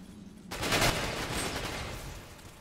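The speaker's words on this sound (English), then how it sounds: "One firing out of the sniper thing underneath." A sniper rifle fires from below in the online shooter Ghost Recon Phantoms, set at a submarine. A sharp, loud report cuts in after a short quiet, then rolls into a long, reverberant decay with scattered crackle.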